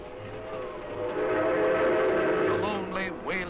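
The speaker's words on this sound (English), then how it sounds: "The lonely wailing whistle as the lights of a little town whiz by" A long, wailing train whistle rises and holds, with a voice speaking over it and a low rumble beneath.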